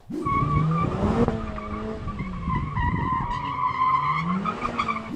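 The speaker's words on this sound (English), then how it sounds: "here's me drifting a Mercedes AMG A45s" A Mercedes-AMG A45 S drifting, with loud close tire squeals that rise and fall in long wavering screeches over the engine's roar, and no talking.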